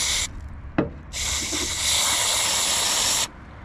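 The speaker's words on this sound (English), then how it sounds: "So I'm gonna use a carb cleaner and spray it out" Short bursts of hissing aerosol carb cleaner spray, one brief then a longer steady blast, with a soft knock between them, cleaning a snow plow hydraulic filter container.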